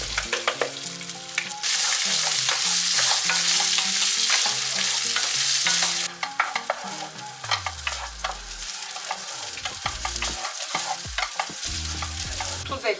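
Soaked rice hits hot vegetable oil in a pan with a loud, steady sizzle, followed by repeated scraping and clattering as it is stirred. No voices are heard.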